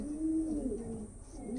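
Punjabi pigeons cooing up close, a low, soft, wavering coo held for over a second, with faint background noise.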